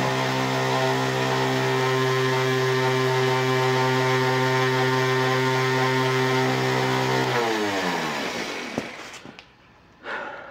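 A small Kubota diesel engine runs at a steady, loud idle after a capacitor jump start, a continuous chugging drone that fades and shuts down near the end, followed by a few clunks.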